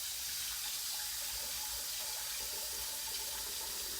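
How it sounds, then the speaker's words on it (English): Cold water runs steadily from a kitchen tap for cooling blanched fiddleheads, a constant close hiss and splash with no pauses or voices. "Got my cold water running."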